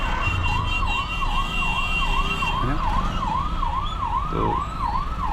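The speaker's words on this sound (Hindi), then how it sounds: "ये अभी सायरन सुन पा रहे होंगे" An ambulance siren wails in a steady rising-and-falling cycle through rainy office-hour traffic in the NCR, with road noise around it and someone talking over it.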